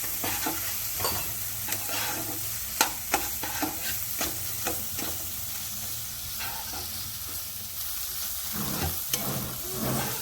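Tomato-based masala sautés in a pan for a steamed fish dish, a steady sizzle with repeated scraping strokes of a stirring spoon, close and moderately loud, with no talk.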